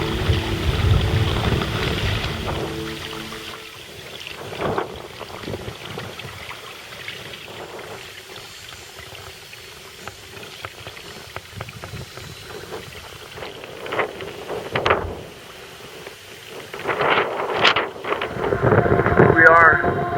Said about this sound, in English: I finally have a little bit of wind behind me.